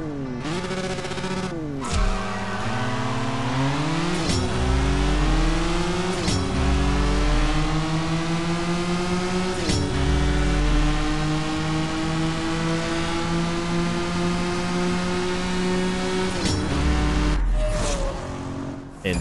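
Race car engines revving hard through repeated gear shifts in a CSR Racing 2 live drag race, each rising whine dropping sharply at the shift, loud and continuous.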